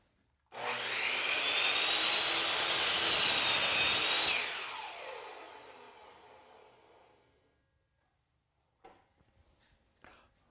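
Miter saw bevel-cutting through wood molding: a loud whining cut lasting several seconds, tapering off as the blade spins down, followed by faint clunks and handling noises.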